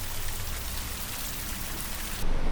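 Steady, dense rushing water from a mountain waterfall near Badrinath roars throughout, loud and continuous like falling water close by, swelling slightly louder near the end.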